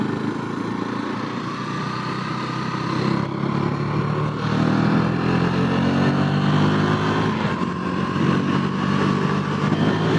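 A 2022 KTM 390 Duke single-cylinder motorcycle rides along, its engine droning steadily and loudly with rising and falling revs and wind noise for the whole stretch, no voices over it.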